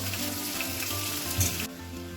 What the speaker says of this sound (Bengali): এবারে ফুলকপিগুলো একটু ভাজা করে নিচ্ছি ওই তেলেই